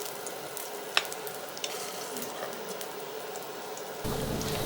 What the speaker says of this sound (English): now I'm slightly sauteing the carrots in the pork, in the rendered pork fat